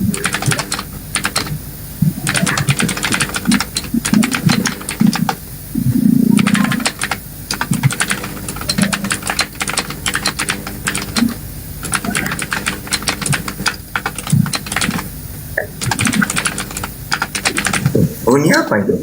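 Rapid clicking keystrokes on a computer keyboard rattle in irregular bursts with short pauses, loud and close, while voices talk intermittently over the typing.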